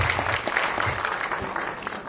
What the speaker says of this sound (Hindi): कल के सेशन के लिए जोरदार तालियां करेंगे हम लोग